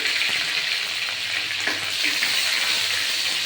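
Cumin seeds, a bay leaf and ginger frying in hot oil, giving a steady, even sizzle that stays close and continuous throughout.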